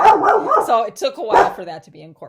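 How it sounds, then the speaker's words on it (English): A pet dog barks and yips at home, partly masked by a man lecturing. "Sorry that my dog is barking"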